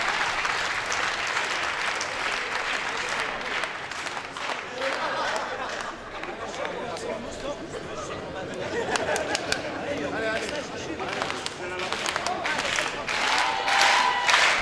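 A crowd at the ITSF World Cup 2017 foosball men's doubles final cheers and applauds steadily, loud and dense, with chatter mixed in and bursts of clapping swelling toward the end.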